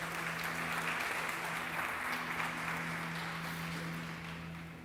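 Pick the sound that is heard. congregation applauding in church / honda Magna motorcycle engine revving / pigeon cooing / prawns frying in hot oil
congregation applauding in church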